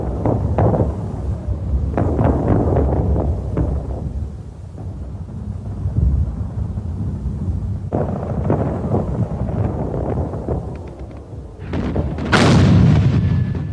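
High explosive shells from First World War artillery strike a target, heard as several deep rumbling booms at a distance, with a sharper, louder blast near the end amid wind noise.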